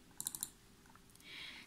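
Computer keyboard typing, a quick cluster of four clicks near the start and a few lighter taps afterward, faint and close, followed by soft background hiss, with no talk.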